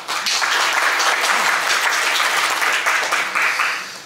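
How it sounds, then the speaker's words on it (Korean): Audience applause fills a hall at a Korean esports policy forum, sustained clapping from a full crowd that holds steady for several seconds before easing off at the end. "큰 박수 부탁드립니다"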